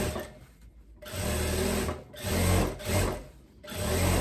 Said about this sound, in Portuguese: passando mais uma costurinha aqui no outro lado do elástico